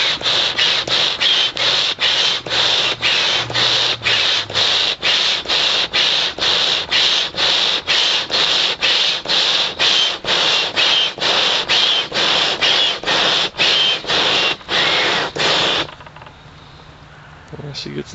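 A homemade hand-cranked forge blower is worked at a brisk, very regular rhythm, each turn a loud close whooshing rasp, for about fifteen seconds before it stops and the sound drops to a quiet background rush.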